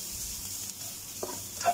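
Rice fried in plenty of oil in a pan, Filipino sinangag style, makes a quiet, soft sizzle, joined toward the end by a few light scraping stirs and small clicks. No one speaks.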